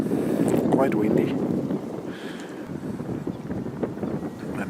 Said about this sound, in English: we're now here at the beach and it's quite windy